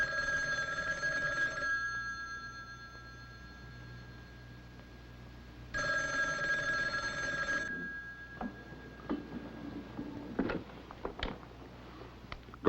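An old-style telephone bell rings twice in long bursts with a pause between, followed by clicks and clatter of a receiver over faint hiss.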